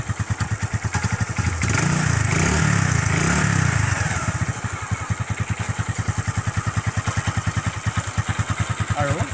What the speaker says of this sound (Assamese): দেখিলে বাইকখন ষ্টাৰ্ট হৈ গ'ল।